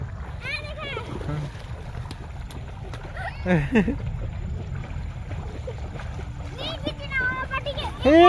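Water splashes and flows continuously while children and adults chatter nearby, with a brief louder splash midway.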